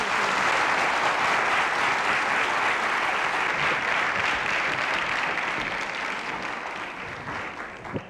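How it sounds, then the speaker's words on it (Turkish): A Turkish television studio audience applauds in a 1998 variety show, dense, even clapping that carries strongly for several seconds before tapering off toward the end. "Ve güzel kızımızı alkışlıyoruz."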